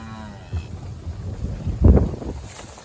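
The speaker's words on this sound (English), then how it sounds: "Got cattle in front of me, got cattle behind me, and we're all heading off to fresh pasture." Cattle being driven out to fresh pasture give a low moo near the middle, heard outdoors with heavy wind rumbling across the microphone.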